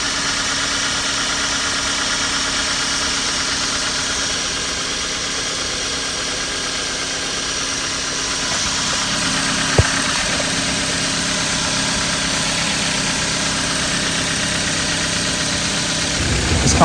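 Dodge Avenger engine idling steadily just after a throttle body replacement, a constant close mechanical hum and vibration with a faint click near the middle and a slight rise in revs at the end.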